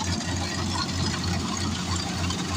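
A rice harvester's engine runs in a paddy field at night, a steady mid-pitched mechanical drone with a low throb, moderately distant and without talk.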